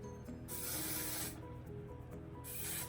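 Hairspray hisses from an aerosol can onto curled hair in two long continuous bursts separated by a short pause, close and steady with no talking.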